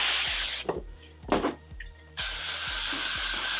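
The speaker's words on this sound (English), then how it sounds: "Seeing what I like and spraying it." Aerosol hairspray is sprayed onto a vintage Eva Gabor wig in two long, close hissing bursts separated by a short quieter gap with faint rustling.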